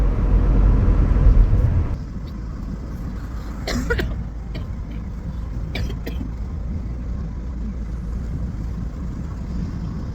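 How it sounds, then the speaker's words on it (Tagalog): A few sharp coughs break through a steady low rumble of passing traffic, with one louder burst at the start. "grabe yung ubo ko talaga"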